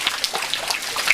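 Rain falls steadily outdoors in a Sundanese short film, a close, even patter of drops on a surface with no talking.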